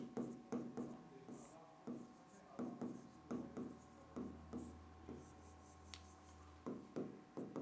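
Notes being written by hand in a quiet room, the pen scratching in short, rhythmic strokes with brief pauses between words.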